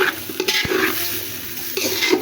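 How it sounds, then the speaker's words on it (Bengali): Rice and potatoes fry together in a pot for biryani while a spoon scrapes and stirs through them, a steady hiss and sizzle with light scraping and no talk. "চালটা আমার ভালো করে ভাজা হয়ে গেছে"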